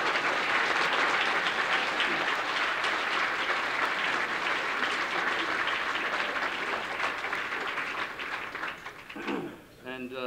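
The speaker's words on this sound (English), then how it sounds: "Let's have a round of applause for James White." Audience at a debate applauding steadily and loudly, a dense wash of clapping from a large crowd that carries on for several seconds and then begins to thin out near the end.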